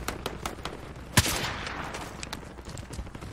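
A single sharp sniper shot in Modern Warfare, a loud, close crack that rings briefly into a short echo, set against faint scattered game noise and distant gunfire.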